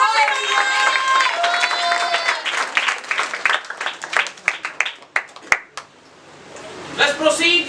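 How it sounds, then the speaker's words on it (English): An audience at a felicitation celebration breaks into scattered, uneven clapping that rises after a stretch of voices and chatter, then tapers off into quiet before someone speaks again. "Clapping for her."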